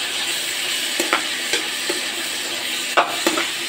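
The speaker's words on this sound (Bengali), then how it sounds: "এখন পেঁয়াজ মরিচগুলোকে একটু নেড়ে চেড়ে ভালোভাবে ভেজে নিব।" Onions, green chilies and crushed garlic sizzle steadily in a pan of oil, with several sharp scrapes and knocks of a spatula stirring them at irregular intervals.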